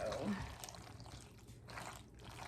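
Cheese is stirred into a pot of macaroni and cheese, making a continuous wet, squelching churn close by with no clear pauses.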